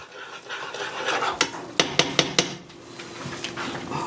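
A spoon stirs homemade caramel sauce of melted butter and sugar in a pan, with a run of four sharp metallic clinks and scrapes against the pan in the middle, then softer scraping alone.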